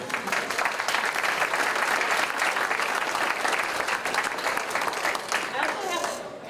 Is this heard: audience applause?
yes